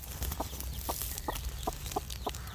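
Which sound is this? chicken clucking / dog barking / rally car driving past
chicken clucking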